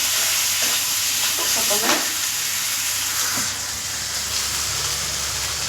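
Chopped onions, dried chili and crushed garlic sizzle and fry steadily in hot oil, a continuous close hiss with faint stirring scrapes and no talking.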